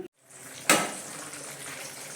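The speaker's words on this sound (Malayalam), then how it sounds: "ഇത് കറി തിളച്ച് പാകമായിട്ടുണ്ട്." A pot of fish curry simmers on a stove with a steady soft bubbling hiss. A brief clatter comes just before it, and no one speaks.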